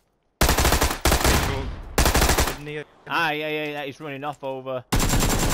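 Rapid automatic gunfire from a PUBG squad match, loud bursts laying down cover fire in two long volleys with a brief gap, then resuming at the end while a player talks in between.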